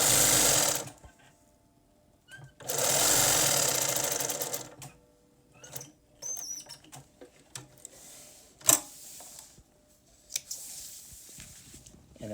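A sewing machine stitches a French fell seam through several fabric layers in short, loud bursts of rapid mechanical whirring separated by pauses and small clicks, with no voices.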